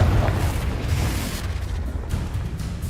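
The Confringo fire spell from the Hogwarts Legacy game lets out a loud, heavy, rumbling blast. It is a deep roar that lasts a few seconds and slowly fades.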